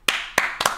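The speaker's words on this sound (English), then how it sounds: "Those are, they're clapping." Three sharp claps from the video game Five Nights at Freddy's, quick and evenly spaced, close and dry with nothing else around them.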